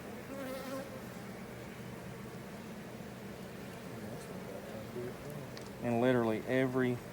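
Caucasian honeybees swarm around an open hive, a continuous close buzzing drone that swells near the end as bees pass right by, with soft voices talking faintly in the background.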